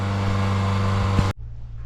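A lawn mower drones steadily in the distance, then cuts off abruptly, leaving a faint low hum.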